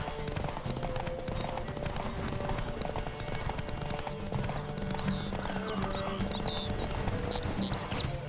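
In The Witcher 3, a horse gallops along a racing road in a steady, loud rhythm of hoofbeats. A faint whinny and game background sounds run underneath, and a voice speaks briefly over it.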